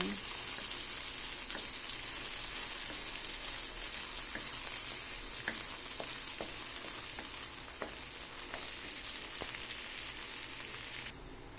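Onion, tomato and garlic sauté in a pan, a dense steady sizzle throughout with faint occasional ticks of a utensil, close and even.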